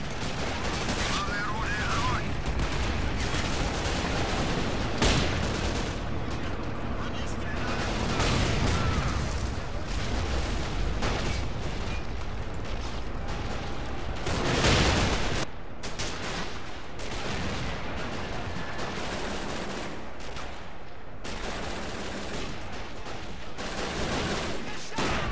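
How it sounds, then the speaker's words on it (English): Battle din from the Men of War Assault Squad 2 war game: dense, continuous gunfire with bursts that fit an MG42 machine gun, layered with explosions and artillery rumble, loud and sustained throughout with voices talking over it. "I still hear an MG42, but he's holding it down."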